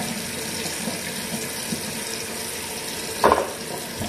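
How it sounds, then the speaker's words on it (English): Tap water runs steadily into a sink while makeup brushes are rinsed by hand, a continuous close splashing hiss with a brief louder burst of splatter near the end. "I don't know why the water's running."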